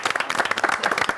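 Hands clapping in quick, steady succession, close and fairly loud, a short burst of applause with a little crowd murmur around it.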